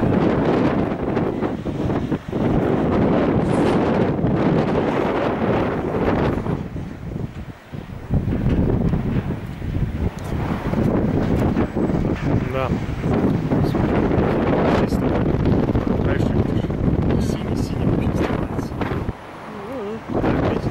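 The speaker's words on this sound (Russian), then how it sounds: "Ветер дует, да." Strong wind buffets the microphone in continuous roaring gusts in Santa Cruz de La Palma, Canary Islands, with a voice talking intermittently underneath.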